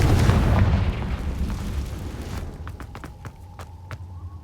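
A Confringo blasting spell explodes in Hogwarts Legacy with a loud, broad boom and heavy rumble that fades over a couple of seconds, then gives way to quieter scattered clicks and a faint tone.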